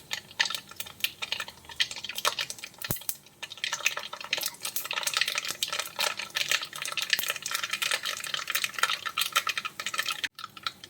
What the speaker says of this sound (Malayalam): എല്ലാം ഒന്ന് പൊട്ടട്ടെ. കടുക് പൊട്ടിയാലേ നമ്മുടെ കറിക്ക് ഒരു ടേസ്റ്റ് ഉണ്ടാവും.